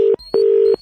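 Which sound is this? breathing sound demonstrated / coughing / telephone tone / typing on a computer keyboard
telephone tone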